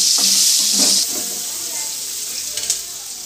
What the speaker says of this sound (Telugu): ఉల్లిపాయలు వేసి వేసుకుంటాను.